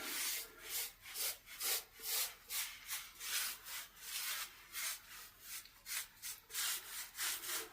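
A trowel smoothing textured lime mortar into the joints of cottage stonework, a steady run of close, rhythmic scraping strokes, each a short rasp repeated about twice a second with no voices.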